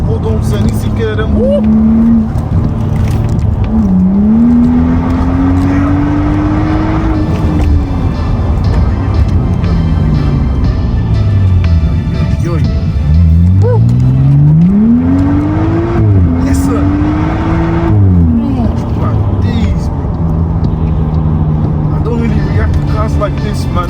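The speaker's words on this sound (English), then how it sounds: "that's what a straight pipe sounds like on an M135i" Straight-piped exhaust of a remapped BMW M135i producing about 330 bhp, roaring loud and close through repeated rising revs and gear changes, with people talking over the engine noise.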